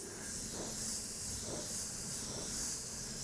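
An airbrush spraying reduced opaque white paint makes a soft, steady hiss of fine spraying throughout, quiet and close, with faint gentle pulses in the flow.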